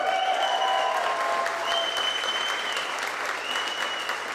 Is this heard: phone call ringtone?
no